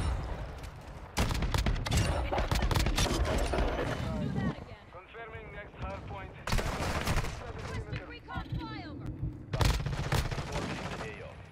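Modern Warfare 2 gunfire comes in rapid bursts, loud sharp volleys broken by brief pauses, with voices speaking underneath.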